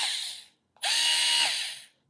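A Bosch cordless electric screwdriver whirs in the tightening direction in two bursts, a short run then a longer steady one with a slight pitch shift, loud and close with nothing else audible.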